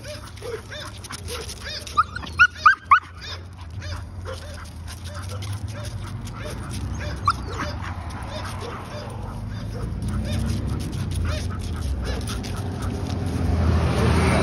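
A dog barks in a quick burst of sharp yips at other dogs during an evening walk, then keeps up excited whimpering and barking amid outdoor noise, with talk mixed in.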